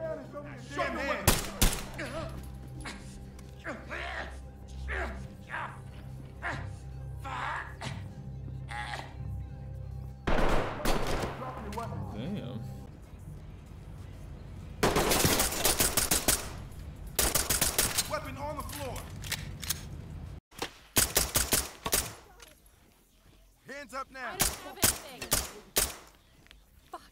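Gunfire in a tactical shooter video game, with sharp single shots and quick bursts scattered across the scene, some close and loud, amid background game noise and occasional voices.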